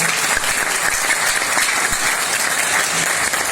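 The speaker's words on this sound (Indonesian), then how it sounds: "Beri aplaus buat beliau." Audience at a business seminar applauding steadily and loudly, a dense wash of many hands clapping at once with no talk over it.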